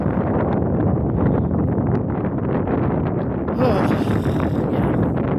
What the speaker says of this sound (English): the gust is kind of moving the camera back and forth here